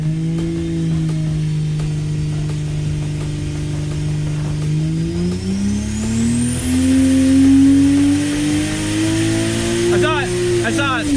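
A Toyota Supra B58 engine built for around 1,000 horsepower runs on an engine dyno, holding a steady loud drone before climbing in pitch as it revs up hard, with a rising high whine above.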